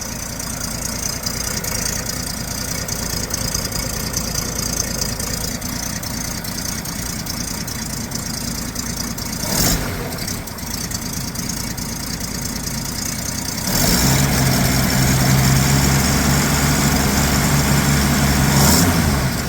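A 1939 Chevrolet Master Deluxe engine runs steadily at idle with a broad, continuous rumble, then picks up and grows louder and fuller near the end, as the throttle opens and a low hum steadies beneath.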